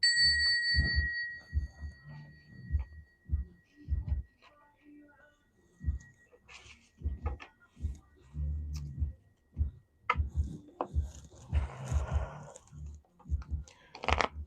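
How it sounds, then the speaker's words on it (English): A small bell is struck once for a morning mantra, a bright ding that rings on with a thin fading tone while a voice speaks over it in short phrases. "Gonna ring the bell."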